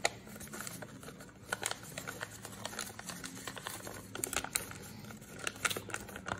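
Paper being folded and creased into an origami box with petals, giving soft crinkles and scattered crisp taps and rustles throughout, close and fairly quiet.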